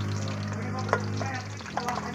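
Vegetables and seasonings sautéed in a pan for pancit gisado give a steady close sizzle, with a few brief stirring clatters and no talk.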